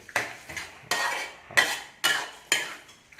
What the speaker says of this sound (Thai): กวนให้เข้ากันนะ กวนให้มันเข้ากันกับหมึก